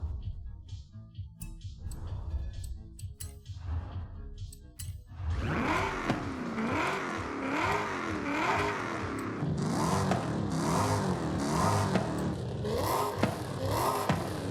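A supercharged Ford car engine in Forza Horizon 5 revs hard after a quieter opening, the engine note climbing and falling in a sustained, loud whine for most of the stretch, with no talking.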